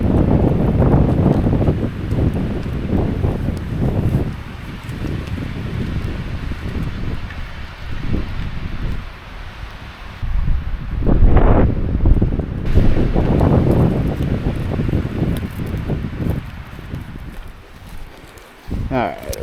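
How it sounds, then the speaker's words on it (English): Strong wind gusts buffet the microphone at a motorcycle campsite, rising and falling in loud rushing bursts while someone talks intermittently. "Oh, here's the wind."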